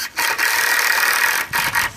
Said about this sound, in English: Screw it into the Z-brace with 2 screws on the top.